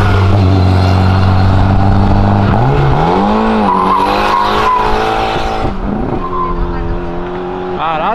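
A car braking hard as it leaves a car meet, its tires squealing in rising and falling wails before the skid fades, loud and near, with people talking nearby.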